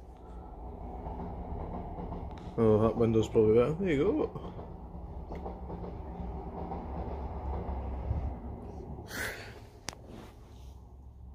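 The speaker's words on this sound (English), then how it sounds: "Oh, train." A train passes with a rumbling, clattering roll under steady background noise, while a person talks nearby.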